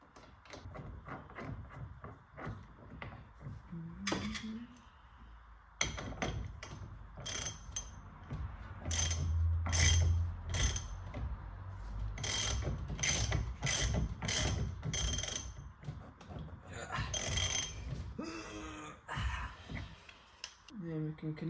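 Bolts being tightened while fitting an RS2000 steering wheel to a Ford Escort, repeated ratcheting clicks and metallic mechanism sounds in short bursts, close up, with someone talking intermittently.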